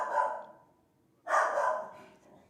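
Two loud dog barks, the second a bit longer and trailing off, close by with no voices.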